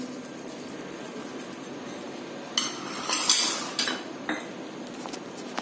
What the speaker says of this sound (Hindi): आप इसको अच्छे से चलाइए